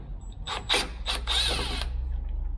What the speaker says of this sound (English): I'm trying to break it off with a screwdriver.